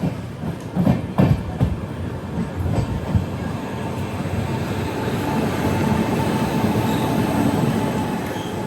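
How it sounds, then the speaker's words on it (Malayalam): An Amrit Bharat Express sleeper train pulls into platform 3 at Thiruvalla railway station: a steady, loud rolling rumble with wheel squeal and a few sharp clanks near the start. The noise grows slightly heavier toward the end. "ട്രെയിൻ വന്നത് 3-ാം നമ്പർ പ്ലാറ്റ്ഫോമിലാണ്."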